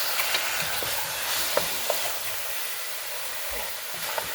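Chicken pieces sizzling and frying in a hot pan, a steady hiss with occasional light scrapes and clicks as they are stirred, close and alone.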